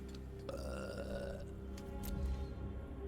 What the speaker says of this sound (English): What's that, the little goblin guy burping?